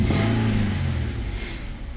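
Engine of a 2015 Infiniti Q50 with a mass airflow meter fault, revving up with a steady, loud mid-pitched drone close by that eases off slightly toward the end; no talk.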